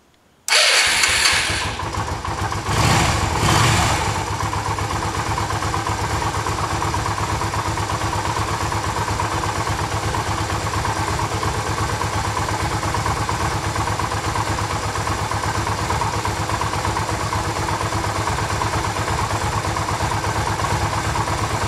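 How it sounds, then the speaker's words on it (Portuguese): A Yamaha XV 250 Virago motorcycle engine cranks and catches within the first second, then settles into a steady, loud, close idle that runs unbroken to the end. "agora eu vou ligar a moto"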